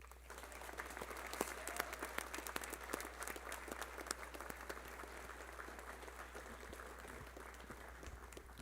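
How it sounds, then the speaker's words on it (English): Steady, dense applause from an audience of family, friends and teachers honoring new National Honor Society members, distant and fairly quiet, a continuous patter of many hands with a low hum underneath, no voices. "please give our newest members of the National Honor Society a big round of applause"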